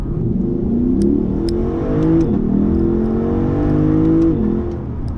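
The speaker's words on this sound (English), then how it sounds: "bringing in real noise from the engine to the inside" A 2020 Lexus LC 500's V8 engine revs and rises, a steady throaty roar with climbing pitch, loud and close, heard from inside the car, with no voices.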